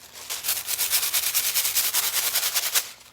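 Foil adhesive being scrubbed and peeled off a crafted surface, a fast run of rhythmic rubbing strokes, close and steady, about a dozen repeated brushy swipes with no talking.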